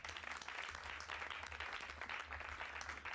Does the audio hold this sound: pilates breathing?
no